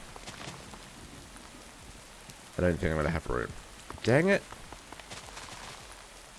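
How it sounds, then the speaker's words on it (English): Steady rain falls in Minecraft with the MC Eternal modpack, a soft continuous hiss of drops under a man's speech that comes in two short bursts. "every time I've been in this world, it's been pouring with rain"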